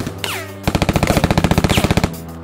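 A rapid, evenly paced burst of automatic gunfire from a short film plays loud and close for over a second. A rising and falling tonal sound comes just before it.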